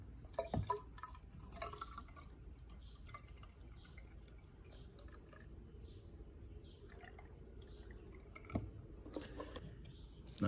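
Water poured into a double trapped drain line, a close, steady low gurgle and trickle with a few louder splashes near the start and again toward the end.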